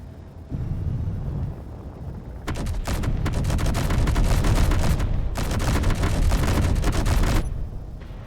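Automated turrets in the space game Space Engineers fire in loud, rapid bursts of overlapping shots, starting with a dense rumble and breaking into long crackling volleys that pause briefly and resume.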